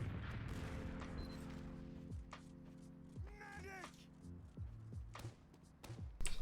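Pistol fire in a competitive Team Fortress 2 match, sporadic sharp shots scattered through busy in-game sounds and tonal effects, moderately loud and fairly near.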